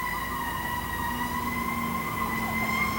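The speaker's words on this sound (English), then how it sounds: "Oh, got some fire engines." Fire engine sirens wail steadily in the distance outside a photo store in the late 1980s, a sustained droning tone with faint low engine rumble underneath and no talking.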